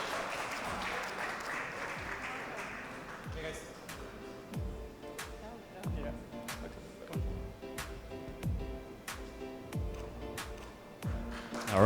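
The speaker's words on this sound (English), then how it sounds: "round of applause again, please." Guests at a wedding reception party give a round of applause, a broad clatter of clapping early on that gives way to a steady rhythmic beat of music with a deep bass pulse.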